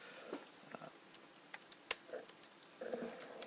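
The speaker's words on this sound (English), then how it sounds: "I'm going to type in just a reference." Fingers tap out quick, uneven keystrokes on a computer keyboard, close and quiet, with small clicks scattered over a few seconds.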